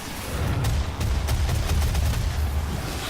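Chain gun fire in the video game Doom, a rapid stream of heavy booming shots with a deep rumble, loud and sustained throughout.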